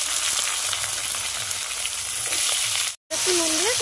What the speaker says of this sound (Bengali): সবজিটা ঢেলে দেব।